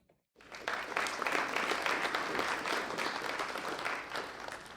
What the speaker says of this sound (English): A great round of applause for Elaine Christian, our 2023 recipient of the Women of the Year